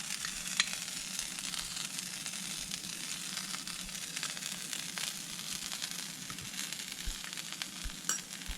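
Chorizo fries in a pan beside tortillas topped with melting cheese, giving a faint, even, continuous sizzle and crackle with small pops scattered throughout and no voices.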